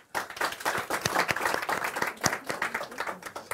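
Applause from the audience at a German book reading: a short round of many hands clapping briskly and fairly close, with no one talking over it.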